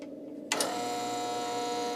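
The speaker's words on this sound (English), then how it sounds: "Jim uses a bevel edger to custom cut the lens to the specific frames" A bevel edger machine starts up to custom cut an eyeglass lens for a chosen frame, going from a faint background to a sudden steady mechanical whir with a sustained tonal whine.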